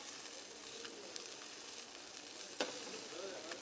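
Fresh seafood fries in a hot pan with a continuous soft sizzle and hiss, plus a few light clicks and one sharp clatter from a knife or utensil, and no voice over it.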